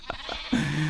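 A Minecraft sheep lets out a couple of short nasal bleats followed by a longer drawn-out bleat, close and clear against a faint background hum.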